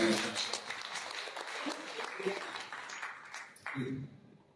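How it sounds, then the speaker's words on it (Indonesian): A church congregation claps in a steady, close wash of applause with voices mixed in, tapering off near the end. "Yang setuju tepuk tangan."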